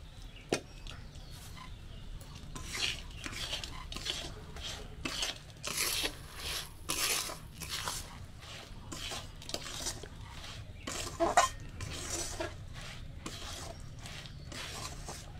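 Puffed chickpeas and sugar syrup for futkorai are stirred in a pan, with repeated scraping and rattling strokes of a utensil, close and irregular, continuing steadily.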